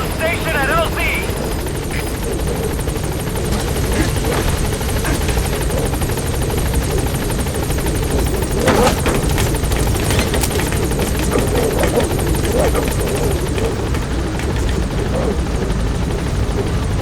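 Pequod helicopter in the Metal Gear Solid V video game arriving at the landing zone, a loud, continuous rotor thrum and engine drone close by throughout.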